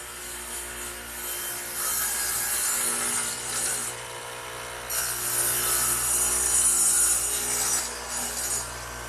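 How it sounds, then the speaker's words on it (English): A radial arm saw fitted with a dado head plows through wood, giving a steady rasping cut over a constant motor hum, with two louder passes that swell and fade, no talk. "the radial arm is set up with a dado head, which is just 2 blades at an angle to one another, so they plow out material"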